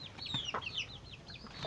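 Backyard chickens cluck and chatter in a steady run of short, rising calls, close by and moderately loud over a low outdoor background, with no one talking.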